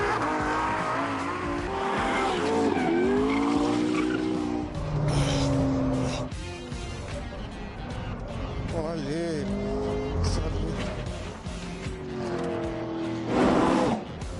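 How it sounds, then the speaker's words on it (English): Race car engines rev and whine with rising and falling pitch, tires squealing in bursts as the cars corner. "Took the cars out to get a sense of how they handled."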